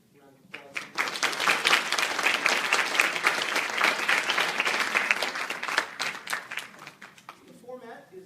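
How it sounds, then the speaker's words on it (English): An audience at an evening university panel on immigration policy bursts into applause for arriving professors, clapping swelling quickly after a quiet start, holding dense and lively, then fading with a voice speaking at the end. "Round of applause."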